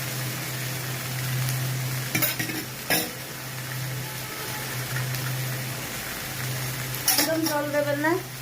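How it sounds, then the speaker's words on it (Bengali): Okra fries in plenty of oil with no water, a steady sizzle running throughout, broken by a few clanks of a utensil against the pan and a brief louder stir near the end. "একদম খালি ওই তেলে ভাজবেন"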